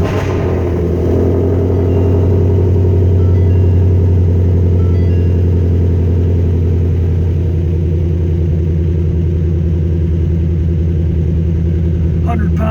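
A 2016 Ford Shelby GT350 sits in neutral with a cold engine, settling into a loud, steady, deep idle rumble that holds close and unbroken for the whole stretch, with a brief shift in tone near the end.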